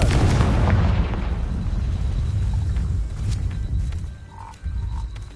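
A fiery Confringo spell detonating in Hogwarts Legacy: a loud, deep explosive boom that rolls on as a rumble and slowly fades, with a few small crackles afterward.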